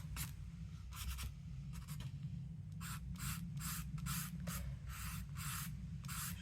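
A pen or marker scratches out repeated lines on an art journal page with a tarot-card theme, short brisk strokes in quick bursts over a steady low hum, close and fairly quiet.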